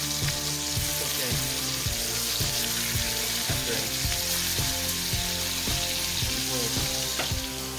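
Lionfish scallops frying in a reducing sauce in a pan, giving a loud steady sizzle over which a rhythmic mechanical clicking, tonal pattern repeats throughout, no voices.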